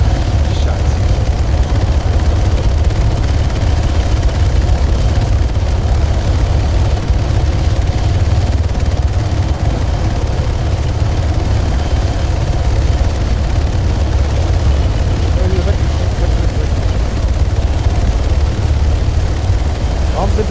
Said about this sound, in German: Warum sind denn da so krasse Helikopter?